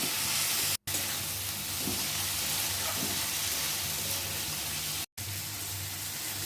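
Spice paste of ginger, garlic and tomato sizzles steadily in a pan for a prawn curry, a continuous broadband frying hiss with faint stirring, broken by two brief silent cuts.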